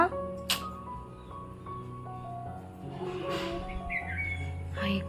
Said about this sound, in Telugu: అదిగో చూడు పిలుస్తున్నాయి నిన్నే ప్యారెట్ వచ్చింది